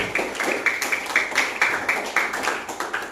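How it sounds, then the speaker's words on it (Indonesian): A classroom of sixth-grade pupils claps together in a steady, rhythmic burst of hand claps, close and fairly loud, with no talk over it. "Tepuk tangan dulu untuk kita semuanya."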